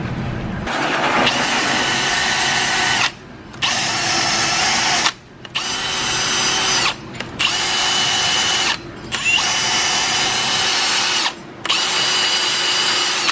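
Power drill run in repeated long bursts with short pauses, close and loud, grinding rust off a car brake rotor in a garage; no talking.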